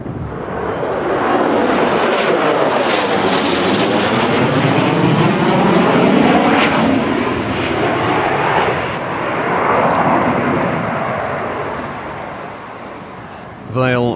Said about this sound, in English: An F-111 then flew over the city, directly over St Luke's Anglican Church.